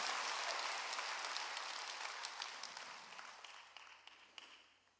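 Church congregation applauding during a Sunday worship service, a dense sustained wash of clapping that gradually thins and fades over about five seconds.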